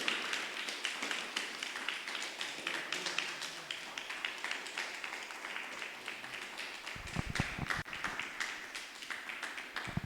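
A congregation at an evangelical church service claps together in a dense, sustained round of applause that continues steadily from start to finish.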